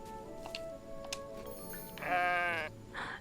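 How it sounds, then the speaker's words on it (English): Sheep bleating in the video game Tales of the Shire, one clear wavering bleat near the middle followed by a shorter one, set against soft ambient game sounds and light chimes. "Can I say hello to the sheep?"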